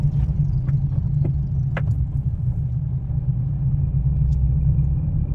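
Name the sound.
car engine while driving and changing gear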